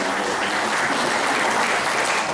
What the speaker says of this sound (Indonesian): sepanjang sejarah tepuk tangan paling semangat saya baru kali ini Pak